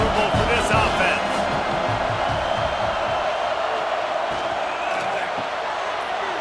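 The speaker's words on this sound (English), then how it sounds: "This crowd trying to make life miserable for this offense." A college football stadium crowd between Boston College and Michigan State roars steadily throughout, a dense, loud wash of noise with no letup.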